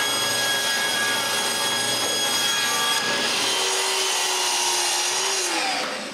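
A wooden table spacer is cut with a saw, giving a loud, continuous, close-up cutting roar that shifts in tone midway and trails off at the end, with no talking.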